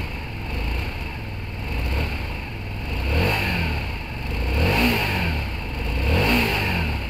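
A Hyosung GT250 motorcycle engine warming up, a close steady idle with repeated rising and falling revs in slow swells, no voices over it.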